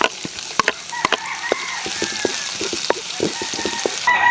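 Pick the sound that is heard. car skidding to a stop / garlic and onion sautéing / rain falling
garlic and onion sautéing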